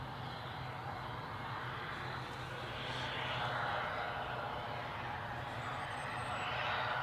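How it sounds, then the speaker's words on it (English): Steady broadband roar of a Gulfstream business jet arriving at Newcastle Airport, continuous and fairly distant, holding an even level throughout with a faint rising whine near the end. "We've got a Gulfstream on the way in."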